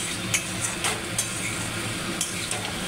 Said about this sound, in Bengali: ভালো করে কষানো হচ্ছে,